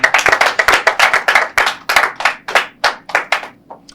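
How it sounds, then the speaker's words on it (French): Applause at an evening show, heard as a handful of sharp, close hand claps in quick succession, loud and distinct, thinning out toward the end with no voices over them. "on va l'applaudir pour ça"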